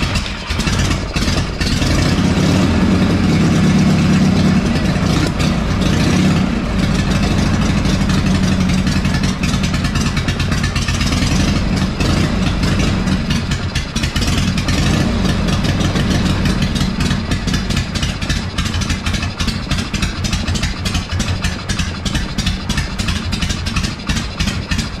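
A Harley-Davidson Shovelhead motorcycle engine cranks quickly on a hi-torque starter and fires, then runs loud and close with a lumpy, throbbing idle and occasional revs throughout.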